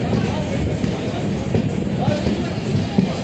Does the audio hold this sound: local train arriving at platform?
yes